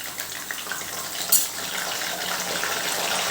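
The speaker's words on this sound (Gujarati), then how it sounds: "સાઈડ ઉપર સિંધો મીઠાવાળું પાણી એડ કરવાનું છે" Rock-salt water poured into a frying pan beside frying potato wafers, a steady gushing pour that runs throughout, close and moderately loud, with a brief sharper splash partway through.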